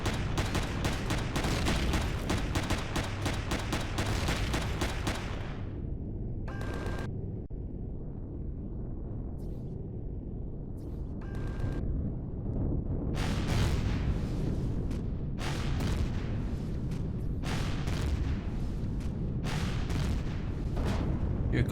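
Turret gunfire and explosions from ground turrets in the space survival game Empyrion Galactic Survival: a dense run of rapid, loud blasts and shots, a quieter rumbling lull, then more scattered heavy bursts.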